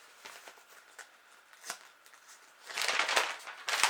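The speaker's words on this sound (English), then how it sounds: "crumpling them up into a ball" Paper sheets crumpled by hand into a ball for fire starting, a close crackly rustle that stays soft at first and then turns louder and denser in steady bursts toward the end.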